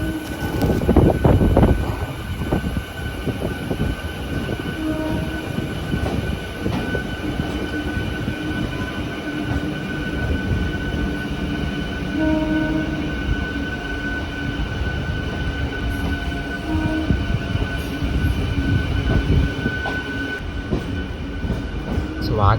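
Aboard Vijayawada to Guntur special passenger train 67769, a continuous close rumble of carriages on rails with faint clickety-clack and occasional wheel squeal, steady throughout with no talk.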